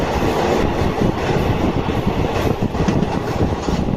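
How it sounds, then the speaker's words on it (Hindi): A fast passenger train runs through forest in Jharkhand, India, heard from on board as a loud, steady rumble with continuous rhythmic clatter of wheels on rails and no talking. "बीच में जंगल के बीचों बीच से रेलगाड़ी गुजर रही है।"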